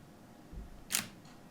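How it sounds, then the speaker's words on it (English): A single soft Nikon D5600 DSLR shutter click in bulb mode, released as the button is let go, quiet and close, preceded by a faint low thump in an otherwise silent room. "you can hear it releases as I release my finger"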